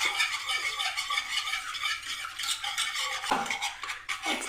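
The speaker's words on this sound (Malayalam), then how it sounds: "ഇനി ഇത് നല്ലപോലെ ഒന്ന് മിക്സ് ചെയ്യാം" A grated tapioca halva mixture being stirred and mixed in a pot, with continuous scraping and clinking of a utensil against the vessel and a sharper knock near the end.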